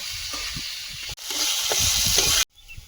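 Potatoes frying in a pan with oil, a steady bright sizzle with soft stirring knocks, briefly cut off twice before the hiss returns quieter.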